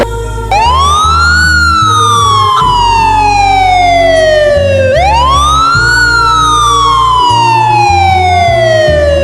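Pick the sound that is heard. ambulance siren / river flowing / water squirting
ambulance siren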